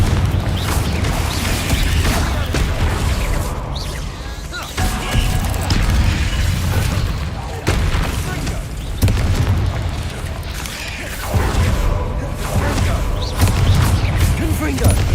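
Repeated Confringo blasting spells explode in Hogwarts Legacy, a loud, dense run of booming blasts and crashes layered over constant battle noise, with voices mixed in throughout.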